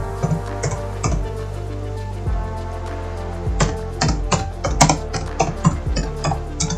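Typing on a computer keyboard at a PC: irregular clusters of crisp, close key clicks with short pauses between bursts, no voice.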